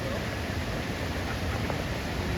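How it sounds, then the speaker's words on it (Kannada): Steady broadband roar of Kote Abbe waterfall, a continuous even wash of falling water heard from a distance with no breaks. "ಇದು ಕೋಟೆ ಅಬ್ಬಿ ಫಾಲ್ಸ್"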